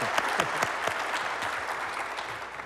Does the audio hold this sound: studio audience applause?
yes